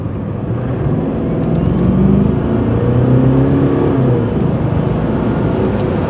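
A car revs hard for a launch-control start, then drops the clutch and pulls away: a loud, steady engine roar that swells and rises in pitch, heard from inside the car with a continuous rumbling drone.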